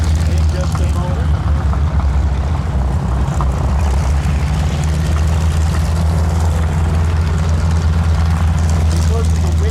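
The WWII aircraft Placid Lassie taxis nearby with a loud, steady, droning propeller engine rumble, wind buffeting the microphone, while an announcer talks over it.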